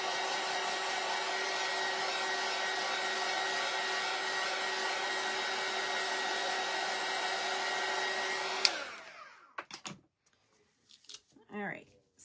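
A hair dryer blows on freshly painted parts of a Christmas tree stand, a loud, steady whirring drone for about eight seconds that then cuts off abruptly, followed by a brief clatter and a person starting to speak.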